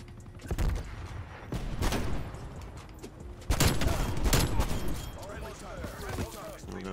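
Pistol fire in Call of Duty Cold War, a handful of sharp shots spaced a second or so apart over a busy game backdrop, with a player talking at points.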